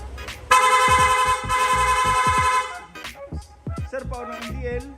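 A loud, rapid electronic Piaa horn on a Yamaha Nmax v2 motorcycle blares continuously for about two seconds, then a few short honks follow amid engine noise and brief voices.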